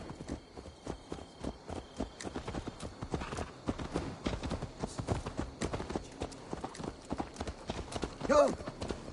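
Horse hooves clip-clop steadily through Assassin's Creed Valhalla on PS5, a close rhythmic walking patter that runs the whole time beneath talking voices.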